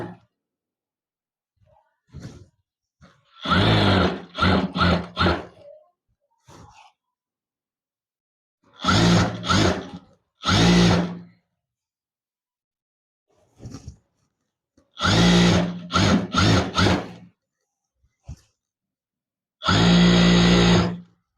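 A sewing machine stitching around the waist of a readymade dress being altered runs in four or five separate loud whirring bursts, each lasting a second or two, separated by near silence.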